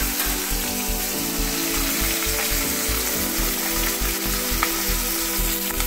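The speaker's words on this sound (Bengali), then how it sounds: "আমার কই মাছ এক পিস ভাজা হয়ে গেছে" Pieces of climbing perch (koi fish) fry in hot oil with a dense, steady sizzle that stays loud and close throughout, with no talking.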